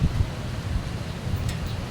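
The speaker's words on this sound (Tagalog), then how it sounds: "Mahangin ang kapaligiran." Wind gusts rumble against the microphone in low, uneven bursts, steady and moderately loud throughout.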